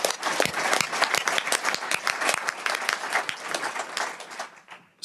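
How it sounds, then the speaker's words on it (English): A conference audience breaks into sustained, loud applause, a dense wash of many clapping hands holding steady for several seconds before tapering off near the end. "I think we should give them a big round of applause."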